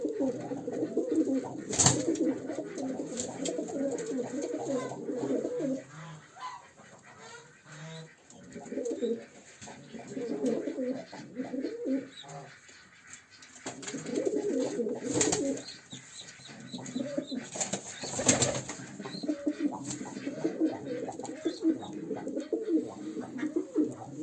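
Pet pigeons in their coop coo in repeated low, soft bursts, with occasional chirps and brief wing flaps, in fairly close, quiet indoor surroundings.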